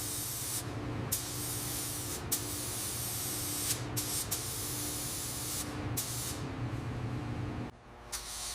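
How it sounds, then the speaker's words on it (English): Dark navy base coat is spray painted onto a 1930 Ford Model A. A steady, close spray-gun hiss runs in long bursts, broken by short pauses as the trigger is released. "All right, time for the base coat. The dark navy is going to look great on this 30 Ford."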